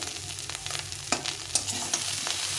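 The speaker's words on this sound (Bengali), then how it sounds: "আলুটাকে ভালো করে ভাজতে হবে" Boiled potatoes frying in oil in a hot pan crackle and sizzle steadily, with a few sharp pops and spatula stirs close by, and no voices.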